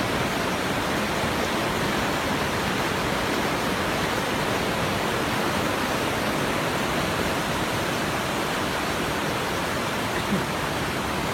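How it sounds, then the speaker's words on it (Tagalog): Strong river water rushes in a steady, loud, unbroken roar that runs throughout without pause, with no voices over it. "Tignan nyo naman guys kung gaano malakas yung tubig."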